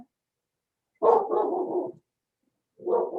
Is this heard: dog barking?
yes